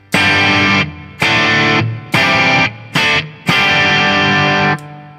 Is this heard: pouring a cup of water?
no